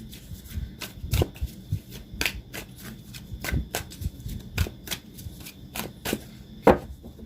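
Oracle cards being shuffled during a tarot-style reading, a quick papery riffle and slap repeating in an uneven rhythm of sharp bursts, close and fairly quiet with no talking.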